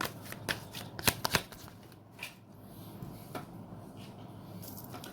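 Tarot cards being shuffled by hand, with a few crisp riffling bursts early on, then softer occasional card flicks against a quiet room background.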